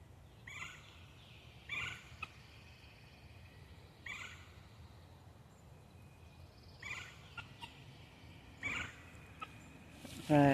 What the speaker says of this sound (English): I want to find where that bird's coming from because I love that sound.